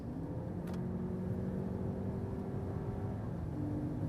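A 2023 Lexus RX500h hybrid SUV accelerates on a German Autobahn from 130 km/h, with a steady engine drone and rising tones heard from inside the cabin, no talking.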